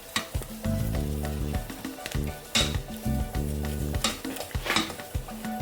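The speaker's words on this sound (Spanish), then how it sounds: "vamos a cocinar esta pastita" Butter and flour roux cooking in a pan for mac and cheese sauce, sizzling and frying steadily while a utensil stirs and scrapes with repeated rhythmic strokes, close and fairly loud throughout.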